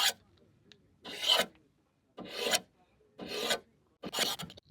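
A knife blade is sharpened on the beveled edge of a car window glass during desert camping, with four steady rasping strokes at a regular rhythm, each about half a second to a second long, close and clear with silence between.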